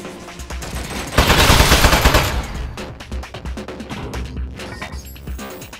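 Automated turret in Portal 2 opening fire: a loud, rapid burst of machine-gun shots that swells into a dense roar for about a second, then continues as a chattering stream of sharp individual shots.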